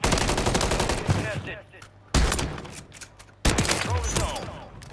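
Call of Duty gunfire rattles in loud dense bursts of rapid automatic shots, broken by short lulls where fainter distant fire and game sounds continue.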